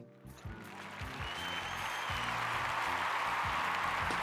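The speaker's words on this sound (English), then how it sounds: "I will put the applause behind this one, the audio clip" Applause added as a sound effect swells up behind a song, a broad wash of crowd clapping that grows louder and holds steady under bouncing bass notes and music.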